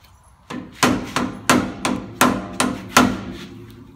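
A hard-face hammer strikes a Toyota Land Cruiser swivel hub seven times at a steady, quick pace, each blow a loud, close metallic thud with no talking.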